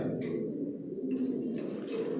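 Pigeons coo in a pigeon loft with stock pigeon cages, a close, soft, low rolling cooing that runs continuously beneath faint higher chirps.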